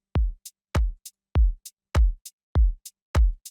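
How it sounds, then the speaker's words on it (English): Electronic kick drum in a relaxing desert house track, played dry without its low-end boost, with six punchy thumps at a steady beat and short hi-hat ticks between them, close and alone. "Without this boost, the kick would sound like this."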